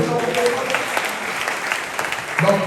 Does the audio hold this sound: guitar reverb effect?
no